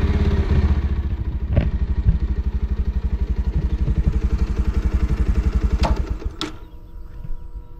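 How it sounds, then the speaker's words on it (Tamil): A Bajaj Pulsar 150 motorcycle engine runs at a steady, rapid idle close by, loud and alone with no talk, with a couple of sharp clicks before the engine note drops near the end. "வண்டி ஸ்டார்ட் பண்ணிட்டீங்க"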